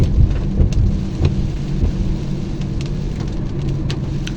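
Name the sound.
rain and thunder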